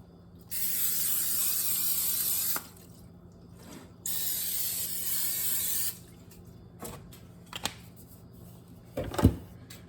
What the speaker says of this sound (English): we are going to take this cooking spray and spray the pans